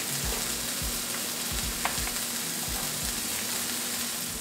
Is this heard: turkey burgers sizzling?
yes